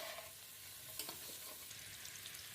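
Egg pakora, an egg chop, frying in oil in a pan, giving a steady soft sizzle with faint crackles and occasional stirring clinks, fairly quiet throughout.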